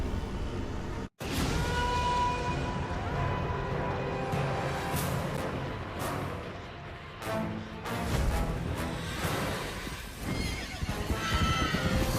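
In the video game God of War: Chains of Olympus, fire steed horses whinny and neigh amid a dense, loud mix of hoofbeats and rumbling effects, with the racket continuing almost without pause.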